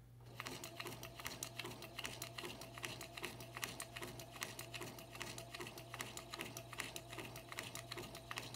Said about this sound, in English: I am going to zigzag stitch all the way around.